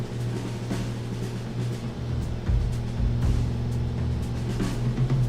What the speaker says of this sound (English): I just heard the RPMs go up